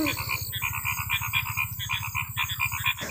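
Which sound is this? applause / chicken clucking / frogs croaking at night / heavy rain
frogs croaking at night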